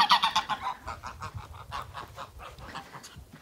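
A flock of geese honks repeatedly and nearby, the calls overlapping in a busy, rhythmic chorus that gradually softens.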